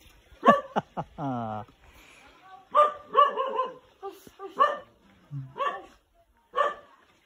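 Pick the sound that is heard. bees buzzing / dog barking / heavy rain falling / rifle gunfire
dog barking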